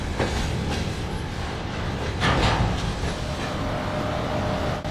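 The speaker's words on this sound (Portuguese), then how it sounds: "Aqui está ele, o trem número 1." The Rossia passenger train to Moscow rolls steadily on its rails, giving a loud, continuous rumble with rhythmic clacks and rattling carriages throughout.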